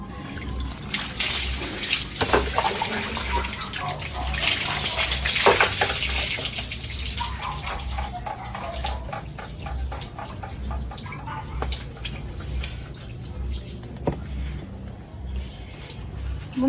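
Water poured and splashing during an outdoor bath with cold water drawn from a well, with drips and trickles throughout, broad splashy bursts early on, and people talking at times over the water.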